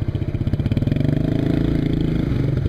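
A motorcycle engine idles and chugs close by in northern Tehran traffic, with a fast, rhythmic pulsing beat that quickens slightly as it revs, loud and alone.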